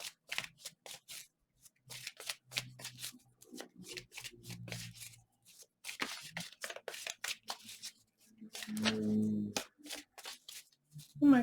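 A deck of tarot cards being shuffled by hand in a series of soft, papery riffles and slides, close and fairly quiet, with a brief voice breaking in between bursts.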